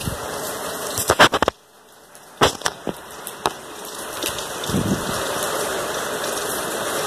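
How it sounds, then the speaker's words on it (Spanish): Steady rain hissing in the background, with a few sharp knocks and clatters near the start and a gentle patter throughout. "Mira cómo está lloviendo."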